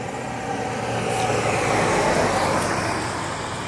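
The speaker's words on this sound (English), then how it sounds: "Cars keep passing by" Cars passing on a road late at night, a close continuous roar of traffic that swells as a vehicle goes by midway and eases off again, no speech.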